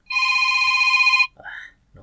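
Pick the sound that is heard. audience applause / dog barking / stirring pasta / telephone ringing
telephone ringing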